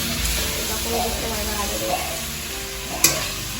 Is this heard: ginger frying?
yes